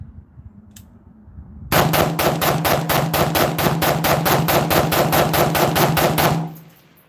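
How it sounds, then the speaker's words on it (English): Rapid gunfire from an AR rifle chambered in 7.62x39 at an outdoor range, a loud, evenly spaced string of about twenty-five close shots fired in a magazine dump, then an abrupt stop into quiet. "I'm going to do a quick mag dump."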